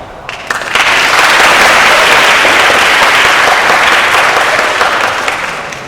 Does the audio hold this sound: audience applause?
yes